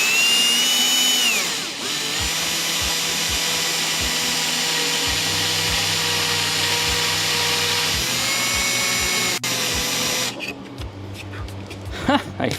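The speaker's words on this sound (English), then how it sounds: "I will try to push the drill aside, and it should remove this material in between." A small power drill runs continuously while cutting material away on a model ship build, a steady whine with shifts in pitch as it bites and eases, ending in rougher grinding bursts.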